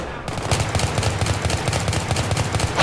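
Rapid automatic gunfire in Battlefield 3 rattles continuously in even bursts at close range, dense and unbroken for the whole stretch.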